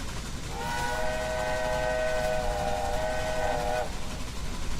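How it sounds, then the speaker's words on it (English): A steam locomotive whistle in the train game Railway Empire blows one long steady multi-tone blast of about three seconds over a constant rumbling rail background, with no voices. "you get to blow the whistle."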